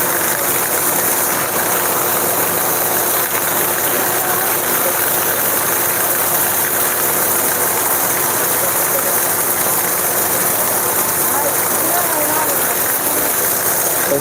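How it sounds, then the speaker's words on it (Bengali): Many vehicles sit stuck on a road in Sylhet at night during a heavy storm, their engines idling under a dense, steady roar of pouring rain that continues throughout. "অনেক গাড়ি রাস্তায় আটকে আছে,"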